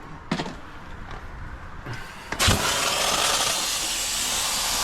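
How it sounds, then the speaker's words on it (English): A steam cleaner blasts cement and plaster grime off a high-mileage builders van. A few knocks and clunks come first, then a loud, steady hiss comes in and holds to the end. "And then just grab your steamer again."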